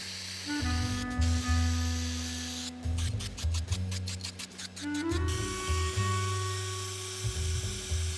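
Short bursts of aerosol spray from a can laying primer onto GSX-R 1000R motorcycle wheels, a few close hissing passes over steady background hum and tonal music-like drones.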